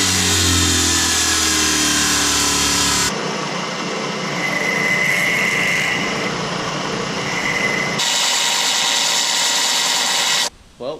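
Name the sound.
power tool trimming pins for plastic injection mold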